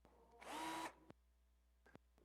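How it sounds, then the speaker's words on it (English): A power drill spins at full speed while sanding the inside of a wooden bowl, one short loud burst of high whine lasting about half a second, followed by a couple of sharp clicks in a quiet room. "She wants to know what speed I'm running the drill on."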